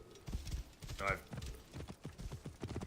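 Rhythmic clip-clop of horse hooves while riding in Assassin's Creed Origins, a steady galloping beat with a short whinny partway through, heard under someone talking over the game.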